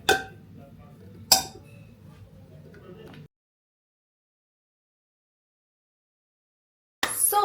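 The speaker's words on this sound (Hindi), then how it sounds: "तो आज हम धोने वाले हैं बर्तन" Utensils being washed, two sharp clinks of pots or cutlery with a low rattle in between, then silence before another burst of clatter at the end.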